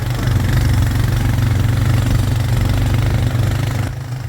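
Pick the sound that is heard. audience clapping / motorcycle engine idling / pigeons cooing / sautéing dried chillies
motorcycle engine idling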